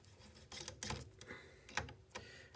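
A T15 bit spins the cap screws out of rifle scope rings. Soft close ticks and small clicks come in a few brief bursts with quiet pauses between them, and no one speaks.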